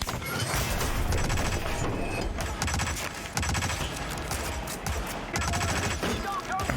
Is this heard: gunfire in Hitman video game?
yes